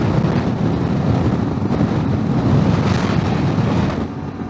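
Steady, loud wind buffeting across the microphone on a CFmoto 450MT motorcycle riding out of Ventspils, Latvia, a continuous broadband rush with no talk that eases slightly near the end.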